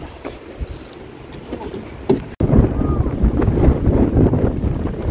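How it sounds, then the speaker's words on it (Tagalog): Strong wind buffets the microphone in rough, roaring gusts that grow louder and more constant partway through. "Grabe, lakas ng hangin!"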